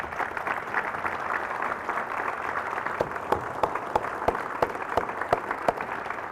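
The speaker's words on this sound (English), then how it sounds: "Please give them a round of applause." An audience at a city's State of the City address applauds the city manager and staff, a broad wash of clapping that grows more distinct, with individual claps ringing out more sharply in the second half.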